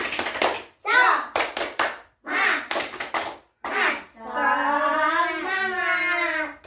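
In a second-grade classroom, children clap in a quick patterned rhythm of sharp bursts, then a voice chants in a sing-song tone.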